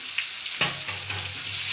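Chilli hits a pan of frying onion and garlic, and a sharp burst of sizzling rises into a loud continuous crackle up close.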